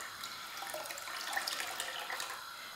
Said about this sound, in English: I'm just gonna strain them and then put half and half in each of the demijohns.